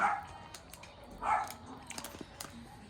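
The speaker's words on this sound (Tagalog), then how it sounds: "Yung pusa kasi nandito, kaya maingay yung aso ko." Two distinct dog barks ring out about a second apart, fairly close, followed by a few faint yips and small noises in a quiet room.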